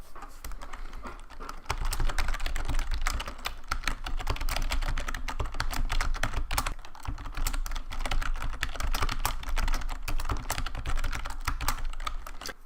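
Rapid typing on a computer keyboard while writing VBA code, with steady close-up key clicks that run continuously with only brief pauses.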